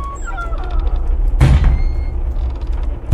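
Door creaking as it swings closed, a drawn-out groaning squeak followed by a louder knock of impact near the middle, then lingering low rumble, close and fairly loud.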